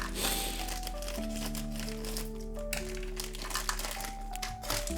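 Strong packing tape being peeled and pulled while unboxing a toy booster pack, with continuous crinkly, rustling packaging noise over steady background music.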